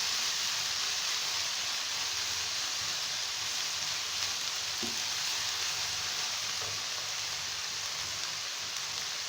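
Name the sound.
vegetables lightly frying in pan for Chinese rice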